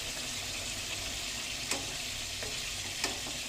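Steady, close sizzling of fish frying in hot oil, with a couple of faint clicks partway through.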